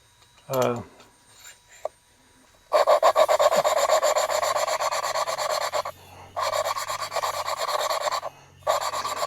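Truck engine valve on a 1989 Freightliner cabover head is hand lapped into its seat with grinding paste, giving a steady raspy rhythmic scrubbing that runs in bursts with brief pauses, after a short vocal sound near the start.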